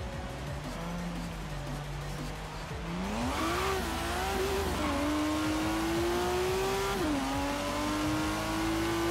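A BMW in Forza Horizon 3 accelerates hard, its engine note climbing through several gear changes with rising and dropping pitch, loud and close throughout.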